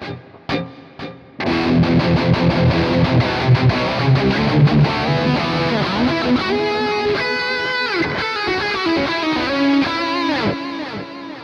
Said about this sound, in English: let's just put the delay before the reverb